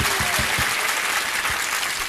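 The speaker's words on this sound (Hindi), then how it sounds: "एक बार तालियां बजा के स्वागत है।" Dense, steady applause from an audience at a Jain religious discourse session fills the whole stretch, with individual claps audible through a loud, continuous wash of clapping.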